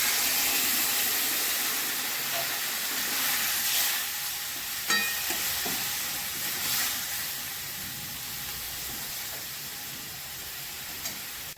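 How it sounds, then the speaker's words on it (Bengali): Steady loud sizzling and hissing from a pan of potato and cauliflower curry as water hits the hot spiced mixture, with a few faint clinks of stirring, continuous and close, no talking. "কষানো হয়ে গেছে, আমি জল দিয়ে দিচ্ছি।"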